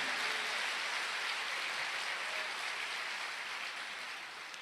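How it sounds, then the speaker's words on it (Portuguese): Church congregation applauding, a sustained wash of many hands clapping at a steady level that tapers slightly toward the end, with no voices on top. "Pode aplaudir mais, Ele merece."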